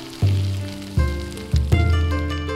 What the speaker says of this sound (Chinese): 用底油煎鲳鱼，一定要把锅子烧烫